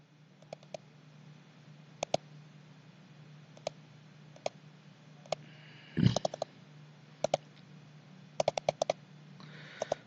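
Sparse clicks of keys tapped on a computer keyboard while working in LabVIEW software, isolated keystrokes and short quick clusters over a faint steady hum in a quiet room, with one louder thump midway.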